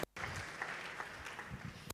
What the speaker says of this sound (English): A wonderful applause for Professor May and Professor Edusa-Kodie